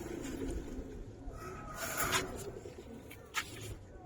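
Pigeons in a loft, silver Giribaz pigeons for sale, give soft low cooing and wing rustles amid faint scratching and shuffling, quiet and close, with brief murmured voices in the background.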